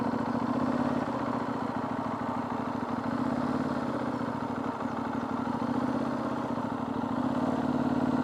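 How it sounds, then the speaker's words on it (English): A Benelli Leoncino 800 Trail 750cc motorcycle engine idles steadily close up, a constant low throbbing rumble with a faint mechanical clatter and no voices. "it's a 750cc motorcycle"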